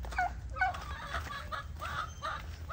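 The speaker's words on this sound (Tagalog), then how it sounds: "Nakabang na agad sa atin yung ating mga alagang pabo. Yan, mga alagang manok." Pet turkeys and chickens on a farm give short clucking and gobbling calls, a few bursts close by over steady low background rumble.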